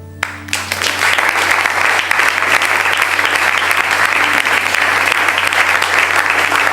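A church congregation bursts into loud, sustained applause for its founding father, a dense wash of clapping that starts suddenly and keeps going steadily throughout.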